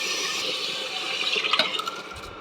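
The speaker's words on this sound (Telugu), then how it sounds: "రైస్తో పాటు వాటర్ వేసేసుకుందాము." Water poured from close by into a pan of rice and chicken pieces for baby kichdi, a steady splashing gush that swells and bubbles briefly before tapering off.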